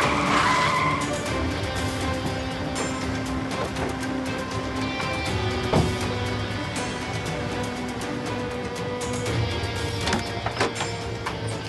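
A car skids to the side of a road with sustained tire squeal and a steady engine roar, loud and close throughout.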